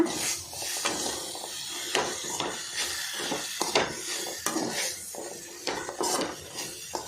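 Spices being stirred and mixed in a pan for kadle manoli sukka, with repeated spoon scrapes and clinks against the metal over a soft background sizzle, close and uneven in rhythm.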